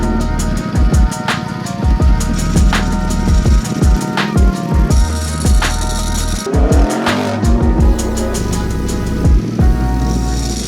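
A 2023 Ducati Panigale V4 SP2 motorcycle revs hard and runs loud and close, its engine note rising and falling repeatedly through gear changes.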